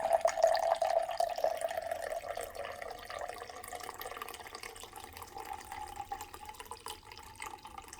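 Freshly brewed home-roasted coffee pours in a thin, steady trickle like a French press, a soft continuous liquid splash with faint dripping, fairly quiet and close, with no talking.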